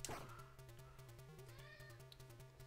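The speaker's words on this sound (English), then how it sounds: "Oh no, it's our cat." A house cat meows near a retro kung fu video game, its cry rising briefly over steady electronic game music and rhythmic beeps that run throughout.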